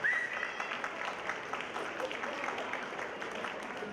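Applause from families and students in an audience at a middle school winter concert, a steady broadband clatter of many hands held across the whole stretch at moderate distance.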